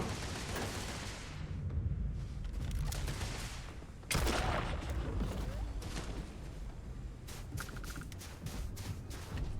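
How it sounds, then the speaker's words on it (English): Gunshots fired by Vasco in the Starfield video game, a dense stretch of distant rapid fire and booms with a sharp loud crack midway, heard fairly faintly through ambient game noise. "Is that Vasco shooting?"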